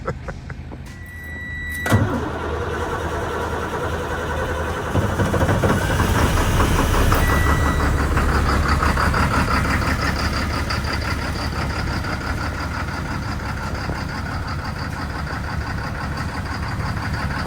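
A truck engine cranks and catches with a sharp burst, then settles into a loud, steady, close idle with a rhythmic knocking rumble, on a snowy day in Ontario.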